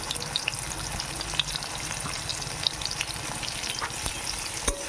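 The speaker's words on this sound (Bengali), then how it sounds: "এটা কিন্তু অল্প আঁচ দিয়ে আমি ভাজতে থাকছি" Taro stems and tomato frying on low heat in a pan, a gentle, even crackling sizzle with occasional soft stirring ticks, close by and without speech.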